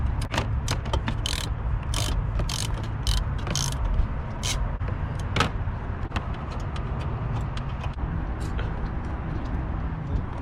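Ratchet working 10mm bolts loose from a Honda Accord 2.0T intake housing: rapid bursts of sharp metallic clicking repeat up close over a low background hum, with no talking.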